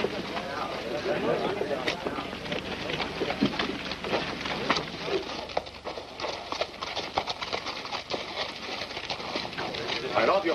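Horses clip-clopping at an easy walk, a steady, moderately close patter of hooves over open ground with light wind noise, continuing throughout.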